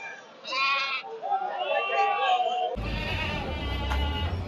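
Goats and sheep bleat at a livestock market, with a clear close bleat early and further bleats mixed with crowd noise and talking as the market bustle rises.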